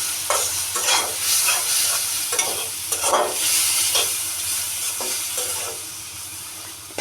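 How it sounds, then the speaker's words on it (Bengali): Onion, tomato, potato and egg fry in a pan, a loud steady sizzle broken by repeated scraping stir strokes every second or so, with no talking. "একটু ভাজা ভাজা হবে"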